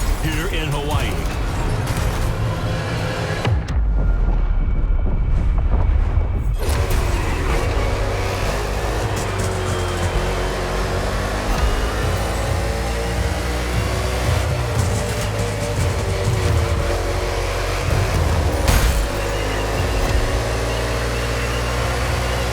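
NASCAR race cars tearing through an urban street circuit in Honolulu, Hawaii, in The Crew Motorfest, engines droning and revving continuously close by, with a brief muffled dip partway through.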